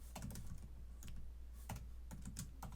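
Quiet, close keyboard typing on a computer, irregular bursts of clicky keystrokes with short pauses between, no voices.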